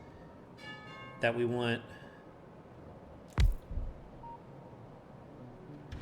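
A two-tone doorbell chime rings once in a house, clear but moderately soft, followed a couple of seconds later by a brief thump, with a voice speaking briefly over a quiet background.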